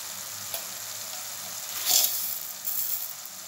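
Hot and Kashmiri red chili powder, with sugar and salt, fry in oil as masala. A steady, close sizzle with stirring swells into louder hissing bursts, and no voices are heard.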